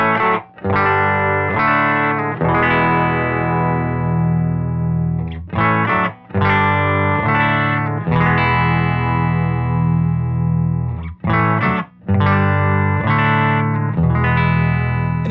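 Electric guitar through a Silktone Astro amp in clean 12-watt mode, distorted sustained chords played in bursts with brief gaps while the treble control is swept, loud and close without talk.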